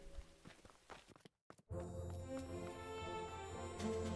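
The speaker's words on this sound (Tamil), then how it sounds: "மேல மாடியில இருந்து கனமான காலடி சத்தம் கேட்டுச்சு" Heavy footsteps from an upper floor in a story sound effect, a few dull thuds at the start, then a brief silence before a steady low ambient drone with scattered soft knocks.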